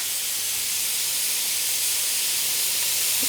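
Meat searing in a hot pan just after being flipped, a loud, even hiss that goes on unbroken with no voices.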